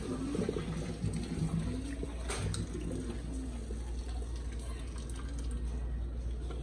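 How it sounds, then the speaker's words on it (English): Hot water is poured off a pot of boiled green beans into a kitchen sink, a steady continuous splashing gush that runs loud and close throughout without pause. "I just pulled that hot water off."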